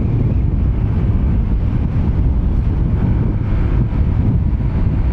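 Strong wind roars and buffets loudly and continuously against the microphone during a Honda ADV 160 motorcycle ride near San Juan, Batangas, a dense low rumble with no voices.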